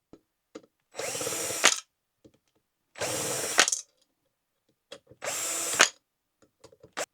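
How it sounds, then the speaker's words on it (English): A power drill removes the blade screws from an upside-down YSMELL 42-inch flush mount ceiling fan, three separate whirring bursts under a second each, with small clicks and handling knocks in between, close and clear. "I start to take out my 3 screws of the blades"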